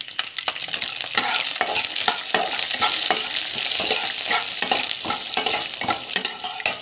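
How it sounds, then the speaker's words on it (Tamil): Chana dal, mustard seeds and cumin fry in a pan, giving a loud, constant close sizzle with crackling pops and the scrape of steady stirring throughout. "பருப்பு, கடலைப்பருப்பு நல்லா வதங்கணும்."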